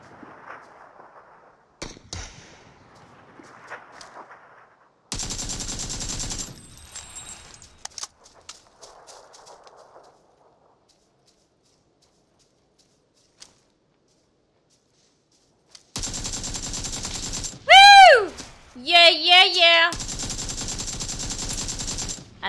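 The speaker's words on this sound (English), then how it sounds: "He's shooting at the other guy now." Gunshots in PUBG on the Sanhok map, several separated sharp cracks in an otherwise quiet stretch, followed by bursts of louder game noise and sweeping tonal effects near the end.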